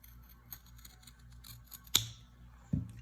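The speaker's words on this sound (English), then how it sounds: "go ahead and grab your scissors, and just right there, we're going to cut" Scissors cut fabric for a pinwheel-style face mask, two sharp, close snips about a second apart standing out from a quiet background.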